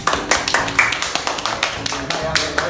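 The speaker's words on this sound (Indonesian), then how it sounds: "Tepuk tangan dulu buat Vivian." Students in a classroom clap for a classmate with a quick run of sharp, fairly close handclaps in an uneven rhythm, while voices carry on alongside.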